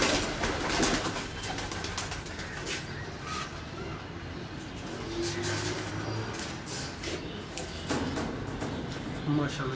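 Domestic pigeons coo softly in a home breeding loft, with wing flutters and rustling, while someone talks over them.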